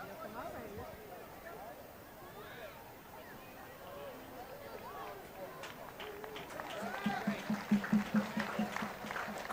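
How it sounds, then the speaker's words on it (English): A crowd at a high school football game claps and cheers in a steady round of applause that builds toward the end, with a commentator talking over it. "Crowd giving this young man a nice round of applause."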